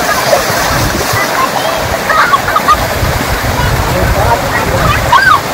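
Dirty water gushes steadily from a tubewell, a continuous loud splashing rush with voices and children's chatter faintly mixed in.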